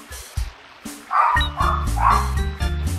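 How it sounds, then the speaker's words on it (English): Dogs bark in the Custom Robo game for the N64, several quick yips and bow-wows in a row over music, close and fairly loud. "They bark at everything"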